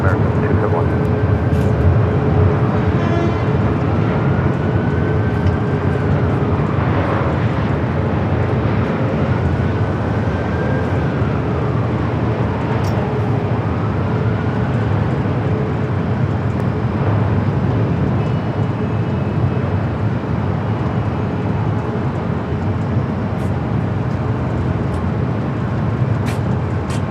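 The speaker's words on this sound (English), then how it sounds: "We do have a United Dreamliner now rolling down that 25 right." A United Boeing 787 Dreamliner rolls down runway 25 right at LAX, its engines a steady distant roar that swells slowly over a constant airport background, while someone talks over it from time to time.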